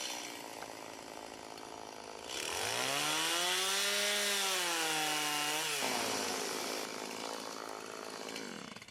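A chainsaw revs up close and loud, its engine pitch rising and holding as it cleans up a wood log carving, then dropping back toward idle, with no talking.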